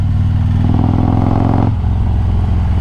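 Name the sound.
Harley Road Glide Special with 128 big bore kit accelerating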